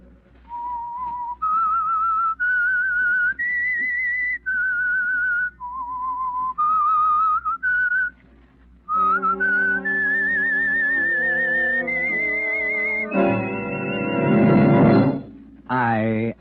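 Someone whistles a slow, clear melody of sustained notes, then a fuller whistled phrase follows with richer tones, ending in a louder swelling passage.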